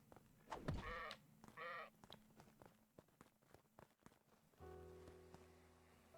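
Sheep bleating in the game Craftopia, two clear bleats early on, moderately loud over background music with scattered clicks and footstep-like taps.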